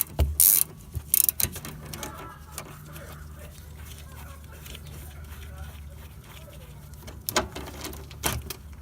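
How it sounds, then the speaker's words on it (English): A ratchet wrench loosening a stabilizer link nut on a 2012 Toyota RAV4, giving short ratcheting clicks and a few louder metallic knocks at the start and end, with a low steady hum underneath. "I just wedge the ratchet against the bottom"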